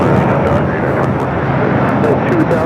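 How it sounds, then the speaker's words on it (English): A United Airlines Airbus A321neo takes off at LAX with a loud, steady broadband jet roar throughout, and voices talk over it. "This is United Airlines 2000 taking off to Denver, Colorado on the A321neo."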